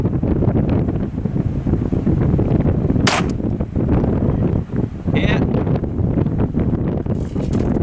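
A single sharp report from a Ruger Government .22lr handgun, fired outdoors at a steel target about 200 yards away, cracks out once midway through a steady roar of wind buffeting the microphone.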